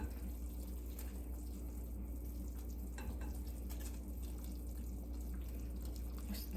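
A pot of soup bubbles on the stove with a low, steady simmering hiss and faint popping, quiet and continuous with a low hum underneath.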